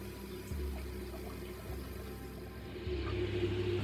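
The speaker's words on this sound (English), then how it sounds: "Just giving him some fresh water." Fresh water pours into a koi tank at a UK pond, a steady close splash and gurgle with low surges that swell partway through, no voices over it.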